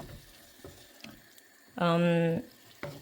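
Water is poured into a pan while pancit canton with tofu cooks, a steady gush lasting about half a second amid light kitchen clatter.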